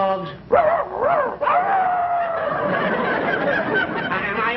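A voice imitates a sad small dog, whimpering and whining in rising and falling yelps followed by a drawn-out mournful whine, close and clear in a comedy radio setting.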